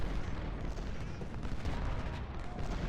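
Artillery fire at the Battle of South Mountain in Ultimate General: Civil War, a dense, continuous rumble of distant cannon and gunfire with scattered sharper reports throughout and no voices.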